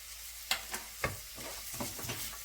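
Chopped onions with salt frying in a pan for a chickpea curry: a soft steady sizzle broken by a few sharp stirring scrapes and taps of the spoon, close but quiet, with no speech.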